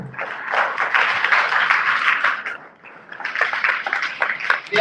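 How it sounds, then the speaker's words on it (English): A live audience at an event claps steadily in two broad waves, bright and fairly loud, with a brief dip in the middle before the clapping swells again. "Can you increase the applause, please?"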